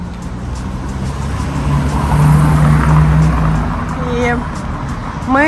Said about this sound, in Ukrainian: Я перейду на інший бік, щоб машини не заважали.